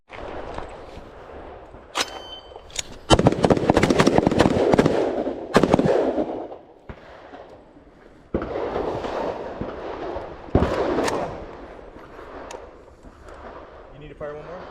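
Rifle gunshots at an outdoor shooting range during a Hawaii Rifle Association skill-builder session: several loud, sharp cracks, some in quick clusters and others spaced apart, with people talking between them.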